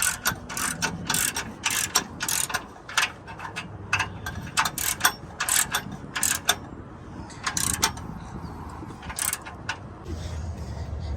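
Ratchet clicking in quick, uneven bursts while tightening bolts on an Infiniti G37 sedan Y-pipe during install, close and fairly loud, with pauses between strokes and some low workshop background.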